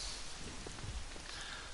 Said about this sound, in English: The rain makes it even more epic to follow him.